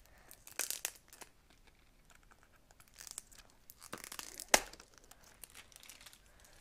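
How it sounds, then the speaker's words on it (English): A sticker peels and crinkles off a plastic toy pirate treasure chest in a few close, papery bursts of tearing and crackling, with quiet gaps between them. "sticker's kind of coming off"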